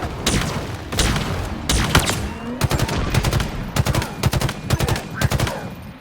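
Weapon fire in the video game Halo Infinite during the mission The Road, with loud repeated bursts and rapid volleys of shots in quick rhythmic clusters, close and continuous throughout.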